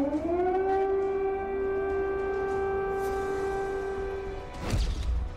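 An air raid siren wails at a steady rising tone, loud and sustained, then drops off, followed by a brief crash or thud near the end.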